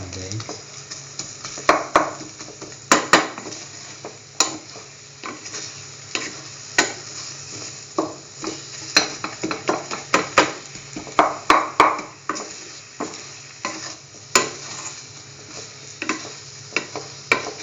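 Scrambled eggs frying in a pan for breakfast quesadillas, a soft continuous sizzle broken by repeated scraping and clicking stirs of a utensil against the pan, close and steady with no voices.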